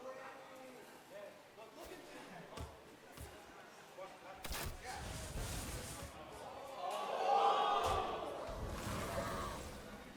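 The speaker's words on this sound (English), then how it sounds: "Like some cheering going on." Crowd cheering at a Hearthstone tournament finals swells in the second half, a broad rising roar that peaks near the end, with a commentator talking over it throughout.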